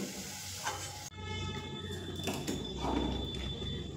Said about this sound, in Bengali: তো একইভাবে আমি বাকি কোপ্তাগুলো ভেজে নিয়ে ফিরে আসছি।